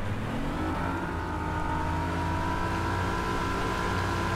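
A motorboat engine in the fishing game Bassmaster Fishing 2022 drones steadily and loudly, its pitch climbing slightly as the boat picks up speed, with no voices over it.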